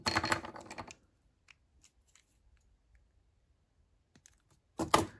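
Wire cutters trim the end of a wire-wrapped heart pendant, giving a sharp close snip at the start and another near the end with quiet handling in between.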